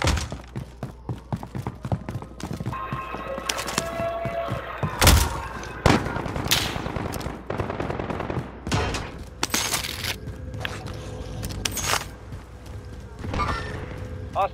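Video game gunfire crackles in a busy firefight, with repeated sharp shots and bursts over a dense background, and a person talking at times.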